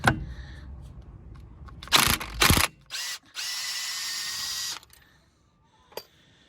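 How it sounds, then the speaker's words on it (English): An impact wrench whirs in several short bursts, then runs in one sustained loud burst removing a 13 mm drive shaft nut on a Ford Mondeo Mk4 before stopping, with a faint click afterward. "Use my trusty impact gun."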